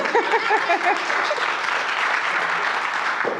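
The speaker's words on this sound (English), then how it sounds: "You can give that a round of applause because it's kind of amazing." A room full of attendees at a Newark business and startup growth forum breaks into sustained applause, a thick, even roar of clapping, with a few voices briefly audible at the start.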